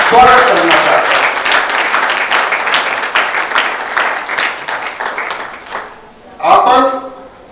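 An audience at a heritage award ceremony in Chhattisgarh breaks into sustained loud applause, dense clapping that gradually thins and fades before a short burst of voices near the end.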